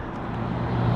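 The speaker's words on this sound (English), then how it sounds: "trucks just went by" Trucks rumble past on a nearby road in a broad, steady roar of engine and tire noise that swells slightly as they go by, with no talking.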